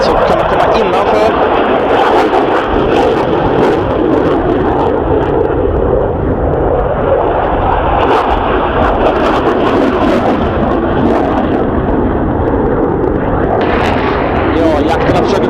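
JAS 39 Gripen fighter jets in a dogfight make a loud, steady, broad jet roar throughout, with a voice talking over it.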